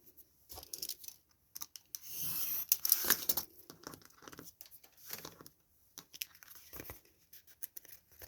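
Paper is trimmed with scissors for a frog-themed handmade journal: close, quiet snips and crinkling rustles come in short bursts, with a longer crumpling stretch near the middle.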